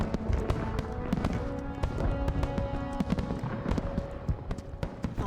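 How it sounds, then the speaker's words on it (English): Fireworks burst over Paris in a Call of Duty campaign scene celebrating the city's liberation, with a rapid scatter of sharp crackles and pops, some close and some distant, over a low sustained background tone. "fireworks are set off in the sky celebrating the victory"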